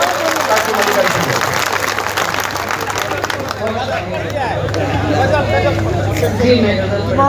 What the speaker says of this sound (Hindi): आप जरा सा तालियां बजा दीजिए सारे लोग मिलकर, ताकि मजे कर सकें।